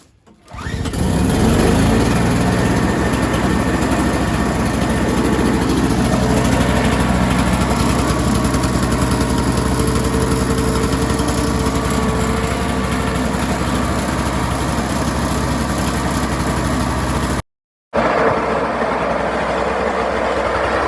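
A Toro CCR2400e snowblower engine catches and then runs loud and steady at close range for about seventeen seconds before a brief cutout, after which it keeps running. The snowblower has a cracked primer bulb.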